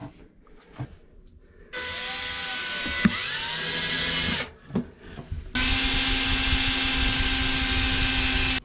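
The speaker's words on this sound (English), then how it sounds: "I'm just going to drill a small hole down the length of the bushing" A power drill whines loudly in long bursts, pausing briefly between runs, its high-pitched grinding steady as it bores a small hole through a metal bushing of a Nordhavn 43 stabilizer up close.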